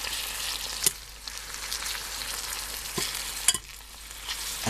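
Lamb pieces simmer in a Thai curry, giving a continuous, even bubbling sizzle close up, with a few sharp clicks of a spoon or pan, and no talk.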